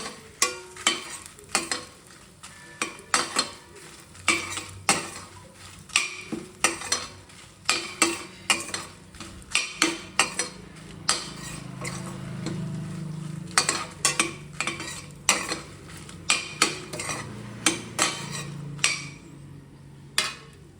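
Ten dry red chillies roast in a spoonful of oil in a pan, with brisk, repeated metallic scrapes and taps of the stirring spoon over a faint sizzle, close and fairly loud, with no voices.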